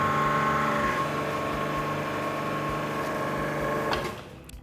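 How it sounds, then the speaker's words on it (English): An SMG 2000XA busbar processing station hums steadily as its hydraulic punch is worked by foot pedal. Near the end, one sharp clunk marks the punch going through the bar, and the motor noise then drops away. "use the foot pedal to punch the hole."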